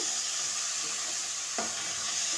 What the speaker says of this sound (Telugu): టమాటా వేస్తే గ్రేవీ వస్తుంది అన్నమాట ఇలా మంచిగా కలిపేసుకోవాలా